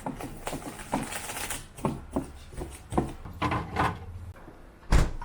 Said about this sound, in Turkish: Çünkü dolu yağıyor.